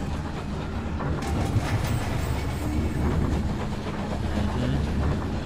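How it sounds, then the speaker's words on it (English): In the game Night in the Woods, a riding train gives off a steady rumbling clatter of wheels on rails with faint rhythmic clacks, dense and continuous at moderate loudness throughout. "Okay, so we're on a train"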